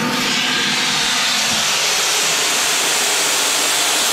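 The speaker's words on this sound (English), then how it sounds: "first actually I'll show you without the water what the steam is actually doing." A BrewSteam steam injection arm for beer brewing, running without water, releases a loud, continuous, close-up hiss of steam that stays steady from start to finish.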